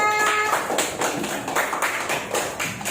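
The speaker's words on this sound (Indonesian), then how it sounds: "tepuk tangan untuk kelompok 2" A classroom group of students claps for a presenting group, a quick run of sharp hand claps in an uneven rhythm, fairly soft and without talk.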